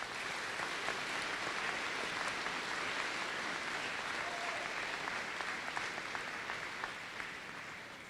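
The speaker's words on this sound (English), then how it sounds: "Let's give them a well-deserved round of applause." Commencement audience applause fills a large hall, a steady, sustained wash of many people clapping at a distance with no break.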